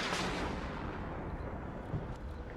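Artillery fire near an M109 self-propelled howitzer in the video game WARNO: a loud, sustained booming barrage with rumbling low end that fills the whole stretch, with no talking over it.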